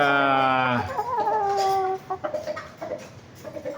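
An Asil Mersil Mat chicken crossed with Claret, three months and three weeks old, gives a run of loud, close, harmonic clucks and short calls in quick succession.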